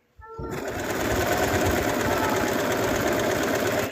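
A sewing machine stitches a dart on a plush bun, starting abruptly and running as a steady, loud mechanical whir close by, alone without talk.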